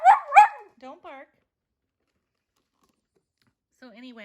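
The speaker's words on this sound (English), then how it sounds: "don't bark" A dog at home barks in two or three close, loud yaps, followed by softer whimpering calls after a pause; a person talks around the barking.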